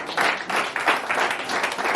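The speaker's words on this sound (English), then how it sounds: "Can we clap for them," Applause from an audience at an African National Congress gathering announcing a new state executive committee, a dense steady wash of clapping filling the room without pause and without voices on top.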